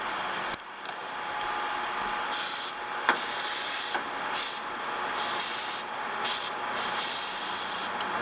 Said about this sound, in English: I am going to shoot some carb cleaner down through it just to clean it up some.